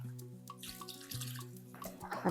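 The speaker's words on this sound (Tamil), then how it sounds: "அதனால் இன்னும் கொஞ்சம் தண்ணி ஊற்றிடலாம்" Water poured from a vessel into a cooking pot of Tamil-style intestine curry (kudal kuzhambu) bound for a pressure cooker, a steady close pour with splashing that grows louder toward the end, over a low background hum.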